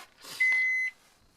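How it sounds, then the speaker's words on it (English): A microwave oven running off a 2000-watt inverter in a truck camper gives a single sustained electronic beep as it switches on, fairly clear in a quiet room after a brief rustle. "Microwave comes on."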